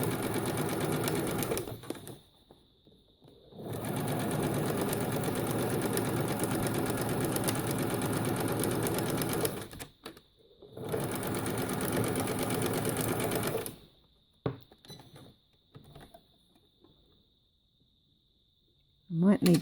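Embroidery machine stitching a quilt block, a fast steady mechanical whirr running in long bursts separated by short pauses, close and loud.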